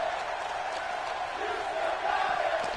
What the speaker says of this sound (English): The crowd telling Jericho he's still got it